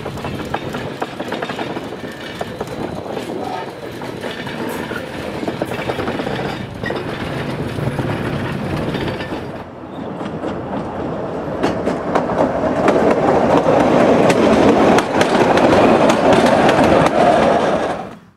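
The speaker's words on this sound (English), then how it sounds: "We see several trains arrive and depart Alto." Electric interurban trains rumble and clatter past, arriving and departing a station, with wheels clicking over the rails and the noise swelling louder and closer toward the end. No talking.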